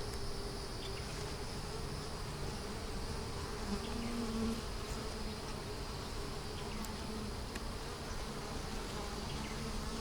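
Honeybees buzzing on a frame lifted from a hive, a steady close drone of many insects that holds evenly throughout.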